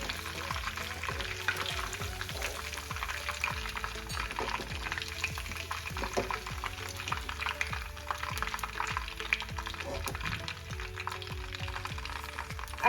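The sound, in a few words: soya chunks frying in oil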